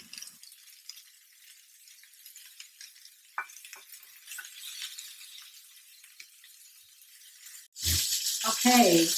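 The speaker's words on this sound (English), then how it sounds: "Okay, the meat is browning nicely. The pork belly is as well." Pork belly and other meat pieces browning in a pan, giving a soft steady sizzle with faint clinks, then a louder burst of frying and stirring near the end.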